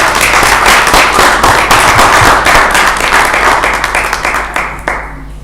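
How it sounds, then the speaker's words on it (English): Sustained audience applause at an international business conference, a dense wash of many hands clapping loudly and steadily before tapering off near the end. "Would everyone give another round of applause for him for giving his speech?"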